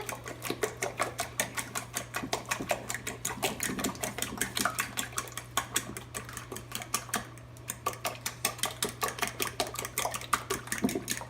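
Egg yolks beaten in a bowl for a keto bacon broccoli quiche produce rapid, rhythmic clicking strokes, close and steady over a low constant hum, with no talking.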